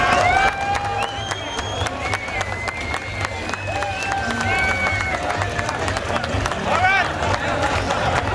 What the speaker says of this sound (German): Bitte einen Riesenapplaus für unser Brautpaar.